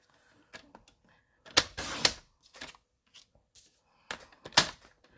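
Scissors or a trimmer cutting white card paper into a small square produce short, close bursts of crisp slicing and rustling, separated by brief pauses.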